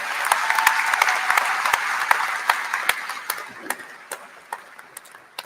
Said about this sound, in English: Let's give a big round of applause for Dr. Dan Mahoney, our system president.